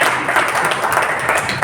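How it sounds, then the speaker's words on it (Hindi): An audience applauds at a Kangen Water seminar in Hisar, Haryana, with dense, steady, fairly close clapping throughout. "तो ताली बजाना अच्छा है।"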